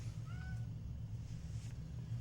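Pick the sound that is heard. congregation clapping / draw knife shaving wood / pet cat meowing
pet cat meowing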